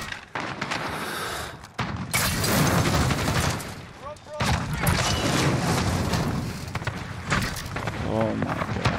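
Repeated heavy shotgun blasts in Call of Duty, loud booming reports a second or two apart over busy gameplay noise, with a player talking throughout.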